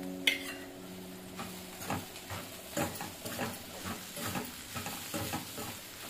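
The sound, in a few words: mixing crushed cumin and garlic into ivy gourd curry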